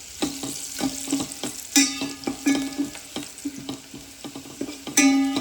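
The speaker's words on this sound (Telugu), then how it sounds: "ఆనియన్స్ రెడ్గా ఇట్లా ఉడికిపోయినాయి." Onions frying in a pan, a steady sizzle with repeated sharp scraping and stirring strokes, close and clear with no talk.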